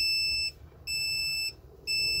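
Electric smoker giving repeated high electronic beeps, three long loud tones separated by short pauses, close and alone with no talking.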